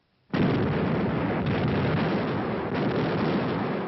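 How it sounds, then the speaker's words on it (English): Long-range guns shelling a city with high explosives during the siege of Leningrad, as heard on an old 1943 war film soundtrack: a sudden onset into a continuous, loud roar of explosions and rumbling bombardment. "For days, long-range guns hurled ton after ton of high explosives into the heart of the city."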